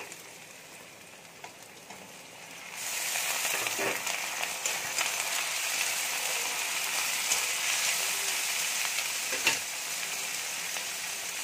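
Chopped tomato added to a hot pan of oil with fried onions for a Bengali fish kalia, the sizzle swelling loudly as it goes in and continuing as a dense, close hiss with faint stirring.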